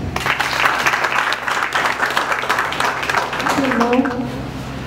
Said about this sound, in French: La main de l'applaudir, s'il vous plaît.